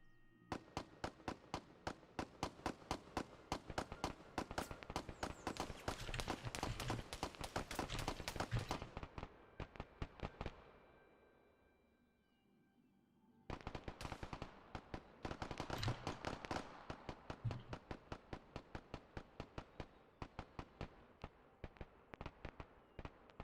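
Rapid automatic gunfire in the Arma video game, quiet and distant-sounding: long bursts of sharp cracks, a brief lull with a fading tail, then more sustained bursts.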